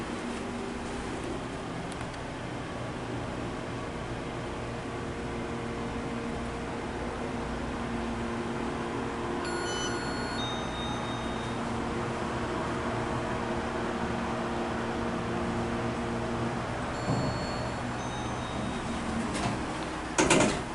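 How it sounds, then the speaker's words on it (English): Otis Series 5 LVM elevator running inside a Fairfield Inn & Suites hotel in Plant City, Florida, giving a steady low mechanical hum with a faint whine and a brief bump near the end, no voices. "And we have an Otis elevator to ride."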